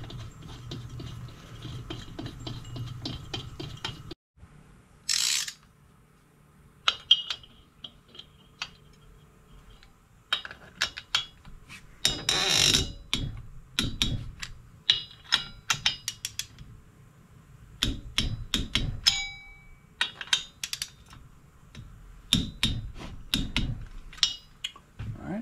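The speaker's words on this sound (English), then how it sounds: "So these bolts get torqued to 25 foot-pounds." Metallic clicks, taps and scrapes come from tightening bolts with a torque wrench on a dirty UTV engine, in scattered bursts separated by quiet gaps, close up with no talking.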